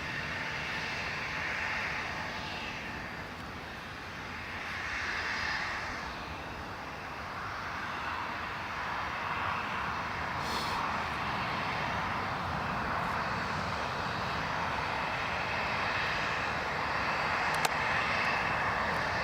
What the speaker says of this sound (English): EasyJet A320neo, just taxiing up there.